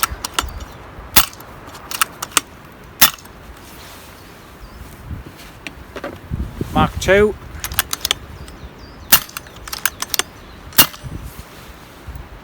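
Two versions of a gun, Mark 1 and Mark 2, fired in turn: several sharp snapping shots spaced a second or more apart over faint background noise, with a brief spoken word between them.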